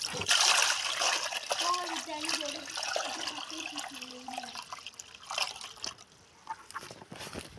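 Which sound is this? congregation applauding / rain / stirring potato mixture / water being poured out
water being poured out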